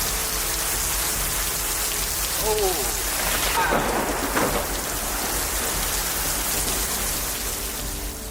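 Heavy rain hisses steadily during a fast-moving storm, and a loud crack of thunder bursts in mid-way and rumbles off over the downpour.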